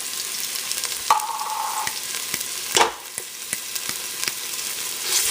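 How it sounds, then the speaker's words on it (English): Tomato paste fries in hot oil for cabbage rolls, giving a steady close sizzle. A few clicks of a utensil scraping the pan come through, with a louder stir and scrape near the middle and no talking. "we just want to fry the tomato paste in the oil for a little while"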